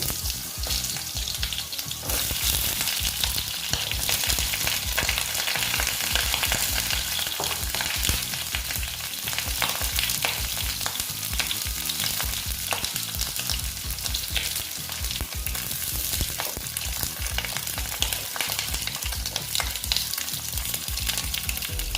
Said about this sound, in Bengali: আমার তেলটা প্রায় গরম হয়ে গেছে এখন আমি দেখো পটলগুলো দিয়ে দিচ্ছি